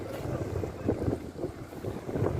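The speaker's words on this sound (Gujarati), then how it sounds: "આ જો બોટ આવી છે અમારા શેઠની" A boat moving across open sea near Bet Dwarka, a steady low engine-and-water rumble with gusting wind buffeting the microphone throughout, no voices.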